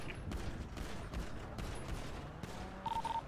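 Video game shootout gunfire crackles in rapid bursts at a distance, several volleys of shots over a low background with faint radio-like tones.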